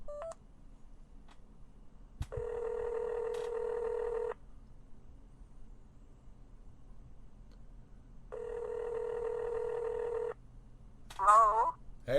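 Two bursts of telephone dialing tones as a call is placed, each lasting about two seconds with a quiet gap between, followed by a short chirp near the end; faint background room noise throughout.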